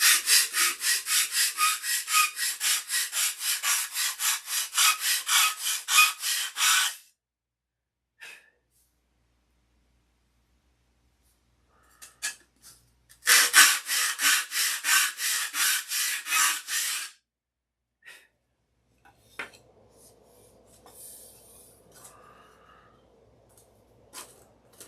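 Sandpaper worked by hand on the turtle deck of a Sig Magnum aircraft, two long bursts of rapid rhythmic scratching strokes separated by quiet, with faint handling noises afterward.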